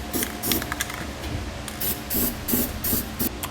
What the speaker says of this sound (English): we'll spray paint the bare metal so we don't have to deal with any rust.